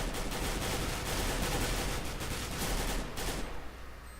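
Galil rifle in Counter-Strike: Global Offensive firing in rapid automatic bursts, dense continuous cracks over about four seconds, then tapering off near the end.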